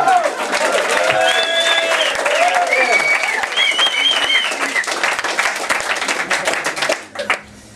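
Comedy club crowd applauding and cheering loudly and steadily for nearly seven seconds at a live stand-up gig, with shouts and voices mixed in, before the clapping breaks off abruptly at the end.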